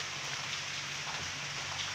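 Heavy rain falls as a steady, unbroken hiss that stays even and continuous throughout, moderately loud with no voices over it.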